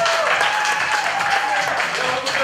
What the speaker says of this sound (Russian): Ну, ребят, поддержите аплодисментами просто.